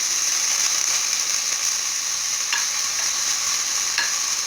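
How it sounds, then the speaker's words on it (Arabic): Onion fries in a pan with a steady bright sizzle, and a few soft stirring scrapes come through over it. "غادي نديرو البصله ديالنا هي الاولى"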